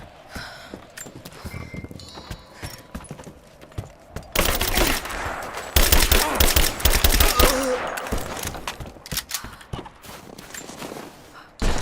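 Gunfire in the video game Rise of the Tomb Raider, with dense rapid bursts of shots loud and close through the middle and later fading, mixed with rattling movement.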